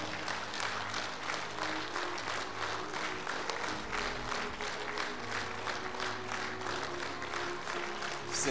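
Steady audience applause at a charity concert as people are invited onto the stage, many hands clapping in an even, continuous patter at moderate distance, unbroken for over eight seconds over a faint low hum.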